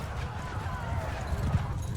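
Horse hooves clip-clop through a medieval battle in the video game Mount & Blade 2: Bannerlord, with a faint whinny under a low, busy rumble of fighting.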